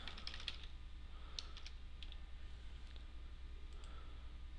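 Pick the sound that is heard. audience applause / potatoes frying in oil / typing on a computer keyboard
typing on a computer keyboard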